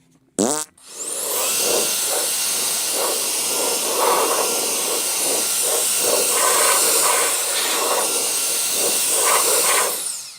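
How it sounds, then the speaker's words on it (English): Compressed air blasting steadily across a motorcycle to clear dust before wrapping, a loud continuous hiss running nearly ten seconds after a brief opening burst, with faint tapping and handling noises underneath. "I'm going to give it a quick blow off."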